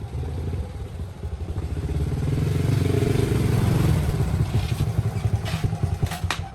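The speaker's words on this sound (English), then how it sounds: "The sound of a motorbike grew louder, drowning out the piano music." A motorbike engine rumbles and grows louder as it approaches, peaking midway, then settles into a clattering, uneven putter.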